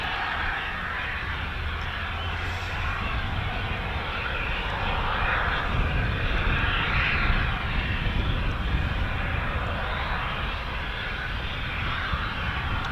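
Boeing KC-135 Stratotanker engines at a US Air Force operation, a broad steady roar of jet noise that holds at a constant loud level throughout, swelling slightly midway, with no talk.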